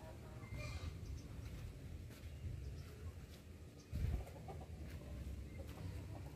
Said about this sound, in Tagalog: Ang aking mga manok ay saggala eh